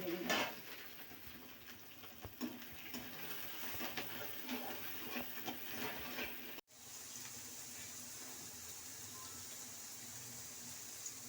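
Chopped onions and two bay leaves hit hot oil in a pan already frying bhetki fish bones, giving a steady, close sizzle with light clinks and a brief break partway through.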